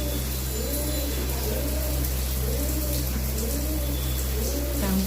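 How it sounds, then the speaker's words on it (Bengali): Pigeons coo in a slow, repeating rhythm, several soft rolling calls in a row over a constant low mechanical hum. "আবার উপরে দুটো পায়রা চলে এসেছে"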